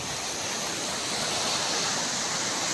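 Huge sea waves driven by Typhoon Opong at Muras Island pound in a continuous roar of surf, loud and broadband, with wind mixed into the dense rushing noise.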